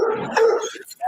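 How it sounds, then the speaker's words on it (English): Blue Boy, a dog, lets out a short, loud burst of barking and yipping right up close, just over a second long. "That's Blue Boy barking up a storm"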